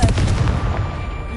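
A Confringo explosion spell in the Hogwarts Legacy video game detonates with a single deep, booming blast that rumbles and decays quickly, alone without talk.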